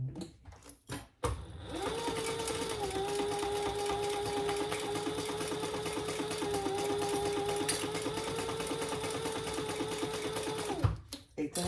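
A sewing machine basting fabric for a crossbody sling runs in one steady, even whir for about nine seconds, close and alone, with brief handling clicks before and after.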